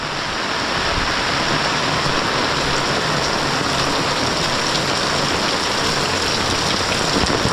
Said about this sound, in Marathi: भरपूर पाऊस पडतो म्हणजे तुफान पाऊस आहे